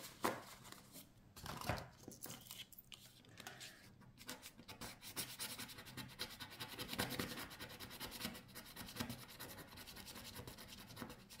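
Steady rough scraping of a coin across a scratch-off lottery card, continuous rasping that runs almost without pause for several seconds, close and fairly quiet.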